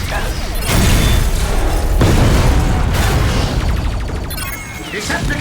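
Cartoon explosions from Decepticon fire in Transformers Animated boom one after another, loud and close, with several heavy blasts and crackling debris through the whole clip.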